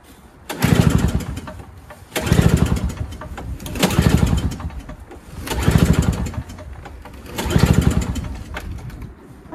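Single-stage Toro or Craftsman snowblower engine being pulled over on half choke, surging and dying in five loud, close bursts of sputtering engine roar with short gaps between them.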